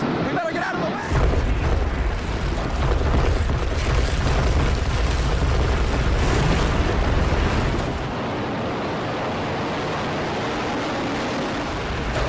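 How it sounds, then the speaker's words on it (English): An explosive building demolition: a massive, loud blast roars across the full range and rumbles on, with a chaotic wash of crashing debris and commotion that eases after several seconds. "A huge explosion now raining debris on all of us"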